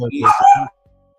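A big dog near a kennel lets out one loud, close bark with a brief yelp. It stands alone and is followed by quiet.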